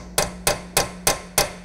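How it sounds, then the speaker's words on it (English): A brass or plastic hammer taps a spline removal tool into a wheel lock bolt, five sharp, evenly spaced strikes about a third of a second apart, close and loud, with no talk. "Align the spline by hand and with a brass or plastic hammer,"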